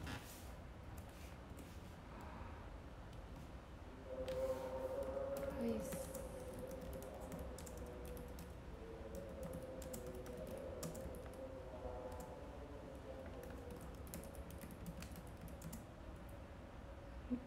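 Computer keyboard keys tap in a fast, uneven patter near the microphone, quiet and continuous beneath a voice talking in a livestream.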